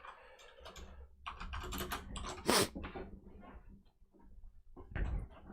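Keystrokes clatter on a computer keyboard during a network scanning session, a dense run of clicks with a louder burst midway and a pause before more tapping resumes near the end.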